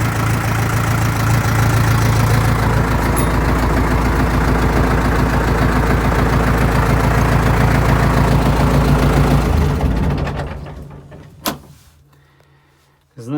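A Lovol tractor, a Chinese model, idles loudly and steadily with a mid-pitched diesel rumble after a key start, then shuts down about ten seconds in, followed by a couple of faint clicks and knocks.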